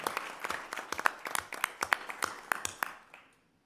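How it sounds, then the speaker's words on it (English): A small audience at a school board meeting gives a brief round of scattered, sparse clapping, individual claps distinct and fairly near, tapering off after about three seconds. "Let's give her a round of applause."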